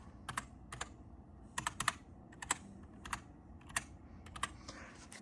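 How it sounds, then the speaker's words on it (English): Fingers type on a computer keyboard in short, irregular bursts of crisp, close clicks at a quiet level. No voices accompany the keystrokes. "So go ahead and type Settings right here."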